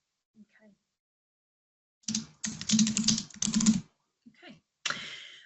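Bursts of typing on a computer keyboard, a quick cluster of clattering keystrokes in the middle with a few scattered taps around it, close and fairly clear in an otherwise quiet room.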